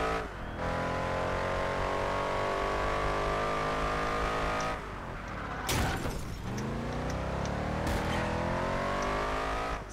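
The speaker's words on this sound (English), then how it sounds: "I always get the flow of drifting right afterwards" A race car's engine drones and revs continuously in Project Gotham Racing 4 while drifting, with a sudden tire squeal and gear shift midway, loud and close with no talk.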